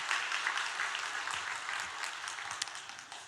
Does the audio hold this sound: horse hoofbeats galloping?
no